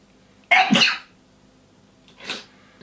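Two sneezes from one person, a loud sharp burst followed after a pause by a softer, shorter one, close by in a quiet room with no talking.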